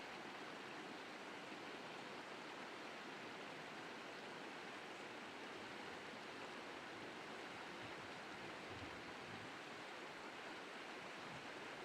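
Mountain stream on the Itashiro River, water rushing over rocks beneath overhanging tree branches, a steady broadband wash held at a faint, distant level with no voices.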